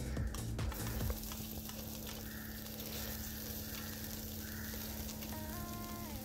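Mustard seeds, cumin and curry leaves sizzle in hot tadka oil, a continuous quiet crackle and hiss with a brief stir at the start.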